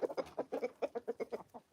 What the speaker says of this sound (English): She went back to clucking